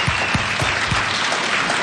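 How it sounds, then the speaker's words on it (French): A small group claps together after a community project presentation, a full continuous burst of applause with a few louder low thumps near the start and no voices over it. "On s'applaudit."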